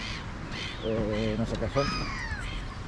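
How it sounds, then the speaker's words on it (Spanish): Bird calls, tagged as crow-like caws, sound as several harmonic cries over an outdoor setting during a run, with a person speaking over them. "Pájaros,"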